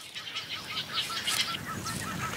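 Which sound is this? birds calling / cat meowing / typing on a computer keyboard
birds calling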